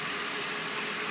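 A 2005 Nissan Altima SE-R engine runs at idle as a steady, even hum with a broad hiss, heard close and alone for about a second.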